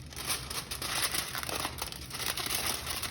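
Steady, continuous crinkling and rustling of aluminum foil as it is folded around seasoned ribs, close and moderately loud with no talking.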